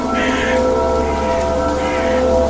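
Steady rain falling in an animated cartoon set in a forest, a loud, even hiss of downpour throughout with a low background hum and no talk.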